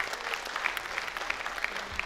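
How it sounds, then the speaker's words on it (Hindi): Enthusiastic audience applause at a Hindi comedy poetry gathering, steady crowd clapping with a few sharper individual claps standing out rhythmically over the wash. "मैं चाहूंगा कि आपकी जोरदार तालियां इनके उस सम्मान को जाहिर करें।"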